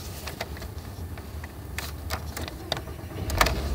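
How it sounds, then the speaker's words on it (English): A VW Jetta with a 2.5 L engine cranks and starts up close inside the car, a rumbling low drone with clicks and mechanical clatter, swelling toward the end as the engine catches. "So I'm going to start the engine and the pedal should go down when I start it."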